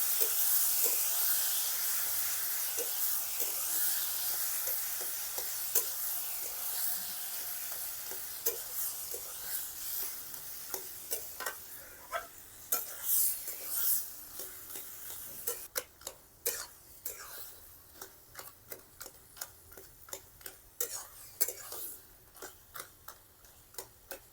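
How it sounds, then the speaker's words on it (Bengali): Boiled taro being stirred into fried coconut in a hot pan for a vegetarian taro-leaf dish, a steady sizzle and hiss giving way to repeated scraping stirs that grow louder and more rhythmic toward the end, with no talking. "এবার খুব ভালো করে মিশিয়ে দেবো"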